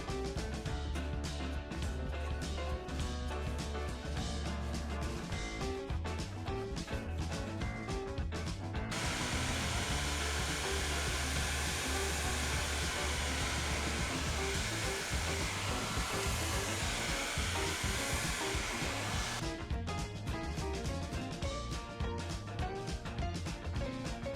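A hair dryer blows steadily on canvas shoes rubbed with beeswax, a loud, continuous airy roar whose tone shifts as the airflow changes.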